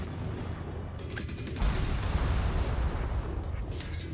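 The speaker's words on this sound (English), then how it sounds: "Yeah, those cannon blasts. I know that sound." Cannon blasts in the video game Omen: a dense, continuous low rumble of distant artillery fire that swells louder midway, with occasional sharper cracks over the din.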